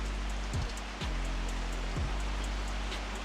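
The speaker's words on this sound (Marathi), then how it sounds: "जोरात पाऊस आला" Steady, dense hiss of heavy rain pouring down close by, broken by a few soft low thumps, with no voices.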